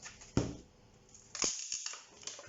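Water pump pliers crack the casing of an 18650 battery pack in a few sharp, close snaps and crunches, with short gaps between each break and no talking.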